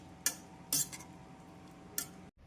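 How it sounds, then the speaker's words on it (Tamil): A spoon scraping and clinking in a pot while vegetables are mixed with ground coconut paste for aviyal, three short quiet metallic strokes spread over a couple of seconds, with no talk. "நாம் தேங்காய் விழுது சேர்த்து காய்கறிகளுடன் நன்றாக மிக்ஸ் செய்ய வேண்டும்"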